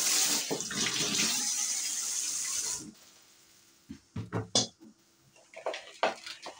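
Water pours in a steady rushing stream into a cooking pot for a few seconds, then stops, leaving a series of close metallic clanks and knocks from the pot.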